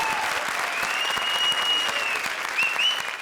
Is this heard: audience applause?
yes